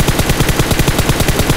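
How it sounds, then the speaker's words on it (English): Sprayed automatic gunfire in a video game match: a loud, continuous machine-gun burst of rapid, evenly spaced shots runs through the whole stretch without pause. "not really connecting with any of the shots that he just sprayed"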